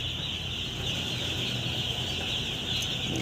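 A dense, steady chorus of three-day-old chicks on a poultry farm clucking and peeping, many birds at once, continuous with no talking.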